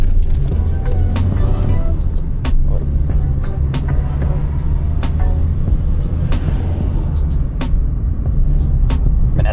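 A 50-year-old car with manual wind-down windows being driven, its steady low engine drone and road rumble continuous and close throughout, with occasional clicks and a little background voice.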